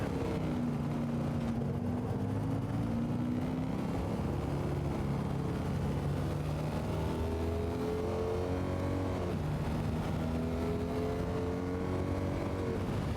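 Engine of a 1958 C1 Corvette in Gran Turismo VR, a steady throaty drone with revs climbing and falling across gear changes, constant and close without any voices.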